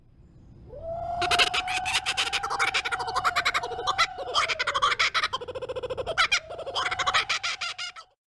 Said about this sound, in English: You hear a kookaburra here, even though kookaburras live in New Guinea and Australia.